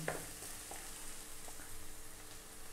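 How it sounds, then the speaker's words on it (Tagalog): Garlic and onion sautéing in a pan for Filipino spaghetti sauce give a steady, close sizzle with a few soft stirring clicks, and no voices. "nagisa na natin yung ating garlic and onion"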